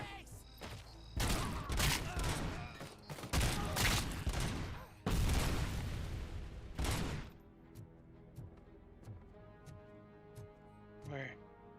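Heavy gunfire from the RoboCop Rogue City video game on PS5 comes in loud, dense volleys for about seven seconds, then gives way to quieter game ambience, with a voice talking now and then.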